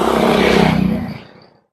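A loud vehicle whooshes past close by, its broad rush swelling and then fading quickly into silence.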